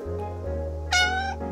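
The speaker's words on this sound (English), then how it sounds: "like I'm holding a cat" A cat being held in the video game Calico lets out a single clear, bright meow near the end, over a steady low background hum.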